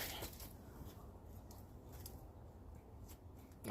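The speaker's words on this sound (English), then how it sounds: "we're taking these scissors, some little toenail scissors, and we're trimming up the gasket so we can get a more flush seating" Small toenail scissors trim a car engine intake gasket, giving soft, close snipping and cutting sounds over a quiet background, with no talking.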